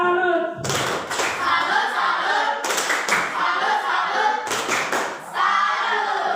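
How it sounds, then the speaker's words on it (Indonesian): Classroom students perform a patterned salute clap in unison, with three loud bursts of rhythmic clapping separated by brief pauses and some tonal voice or chant in the gaps. "Tepuk salut."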